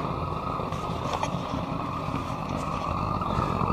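A homemade DIY foundry burner running right after it is lit, giving off a loud, steady roaring rush that stays constant at close range.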